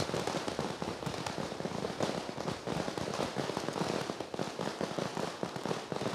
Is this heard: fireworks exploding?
yes